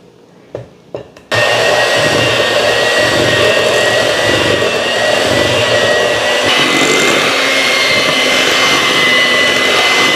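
An electric hand mixer runs steadily through peanut butter cookie dough with oatmeal and chocolate, a loud continuous whir that starts abruptly after a few soft knocks and holds nearly constant to the end.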